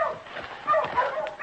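A sled dog in an old-time radio drama set in the Yukon gives short yips and whimpering barks. They come in a loose, uneven run, with no talk over them.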